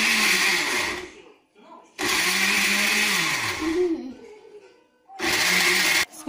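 A kitchen blender whirs loudly in three close bursts while blending fruit into a smoothie, the motor pitch shifting as the fruit breaks up, with short pauses between runs.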